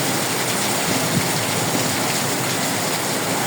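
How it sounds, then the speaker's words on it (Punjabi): Heavy stormy rain pours down in a dense, constant hiss, loud and close, with water flooding the ground and no voices over it. "ਬਹੁਤ ਜ਼ੋਰ ਦੀ ਬਾਰਿਸ਼ ਹੈਗੀ"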